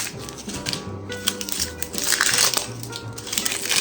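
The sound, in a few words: peeling the papery skin off a whole onion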